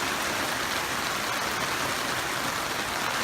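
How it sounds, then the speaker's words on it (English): Heavy rain pours steadily at an Eagle Creek Fire shelter camp, a dense, loud, unbroken hiss of water falling on surfaces with no talking. "But you can hear the rain in the background."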